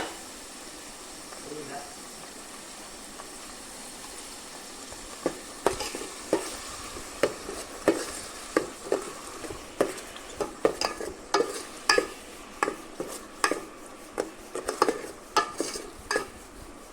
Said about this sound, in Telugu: చూడంండి, ఆనియన్ పేస్ట్ అంతా ఫ్రై అవుతుంది కదా.